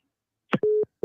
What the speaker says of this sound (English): You picked up and hung up.